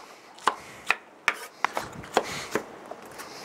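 A knife chops onions for White Castle-style sliders on a cutting board, six sharp, evenly spaced chops up close with softer scraping between them, and no voices.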